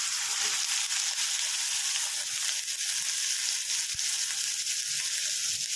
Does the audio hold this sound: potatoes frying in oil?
yes